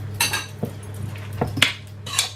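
A cooking pot holding pasta is set onto a kitchen counter, giving a few light metallic clanks and knocks, close and moderately loud over a low background hum.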